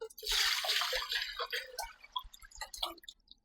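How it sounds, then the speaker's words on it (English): Eight cups of water splash and trickle into a pot for a few seconds, a close, bright pouring rush that thins into drips toward the end. "this is the pot I'm going to use to boil the dumplings. I'm going to add 8 cups of water"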